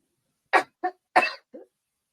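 A short run of four coughs, close and distinct, with brief pauses between; the last one is softer and smaller than the others.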